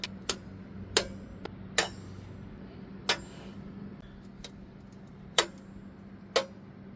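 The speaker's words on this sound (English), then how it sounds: "we'll torque these 4 bolts down to 25 foot-pounds" A torque wrench tightens four mandrel bolts on a 42 or 46 inch Husqvarna mower deck, giving sharp isolated metallic clicks spaced irregularly over a quiet background hum.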